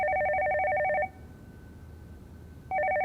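A telephone rings with a trilling electronic tone, a burst of about one second, a pause, then the ring starting again.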